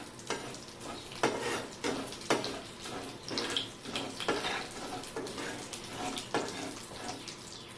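Chopped dry fruits (dates, makhana, almonds, cashews, pistachios, walnuts) fry in ghee with poppy seeds over low heat for modak, giving a steady soft sizzle with repeated stirring scrapes, close and moderately loud.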